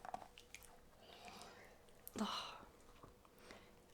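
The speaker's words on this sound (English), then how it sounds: "I'm sorry if you can hear chewing. He's got his tennis ball now." A dog chews and gnaws on a tennis ball indoors, giving soft, wet squishing and mouthing sounds close by, with a sharper squelchy burst midway, all fairly quiet.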